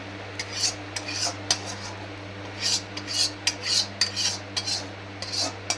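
Small, young, tender local pointed gourds (potol) tipped into a bowl, giving a run of light clinking, rattling knocks in short clustered bursts over a steady low hum, close and fairly quiet.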